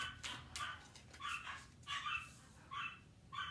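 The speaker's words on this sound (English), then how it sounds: "It's going to get noisy for a second because these dogs always bark." Several dogs bark repeatedly in short yapping bursts, somewhat distant and fairly faint, with an uneven rhythm.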